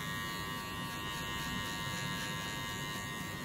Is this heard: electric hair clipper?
yes